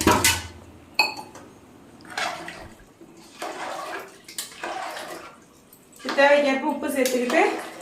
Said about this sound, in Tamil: இப்போ நல்லா நம்ம கிண்டி விட்டுக்குவோம்